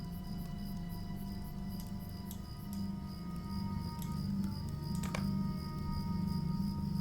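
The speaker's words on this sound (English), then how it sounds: "right now I just have ambiance crickets going" Ambient crickets chirping in a nighttime area of the video game LOTRO, a soft continuous high trill layered over a low steady hum, with a brief brighter click near the end and no talk.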